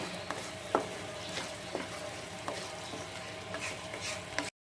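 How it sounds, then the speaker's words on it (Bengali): A spoon stirs sugar and salt into a wedding-style chicken curry gravy in a pan, making rhythmic scraping knocks about every second over a faint, steady sizzle, with no talking. "এখন চিনি আর লবণটাকে ভালো করে গ্রেভির সাথে মিক্স করে নেব।"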